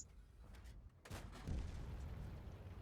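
Artillery fire from a self-propelled gun in the World of Tanks battle game on the Pilsen map, one heavy boom at about one second followed by rumbling explosions and battle noise, loud and without talk.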